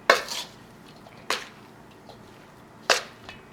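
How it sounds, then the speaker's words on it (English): A utensil scrapes and knocks against a bowl while gnocchi dough is stirred with flour, making three sharp clattering strokes spaced apart with quiet gaps between. "you're going to stir it all up"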